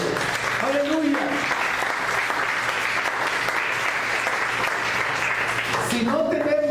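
A church congregation applauds as an offering to God, loud sustained clapping throughout, with a voice briefly rising over the applause near the start and again at the end.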